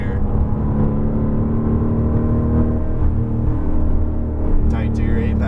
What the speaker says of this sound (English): Bit of throttle here.